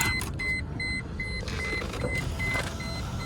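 Power window motor in a car parked at a salvage auction yard, a steady electric whine running through the whole stretch, with a repeating high beep chime over it.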